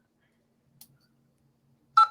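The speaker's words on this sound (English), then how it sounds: "I can hear beeping" Telephone tones during a phone call: a single short faint blip, then a loud, sustained electronic beep near the end, close and clear, with no talking over it.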